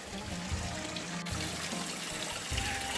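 Cold spring water trickles steadily from a pipe in a continuous, close splashing stream that holds an even level throughout with no talking.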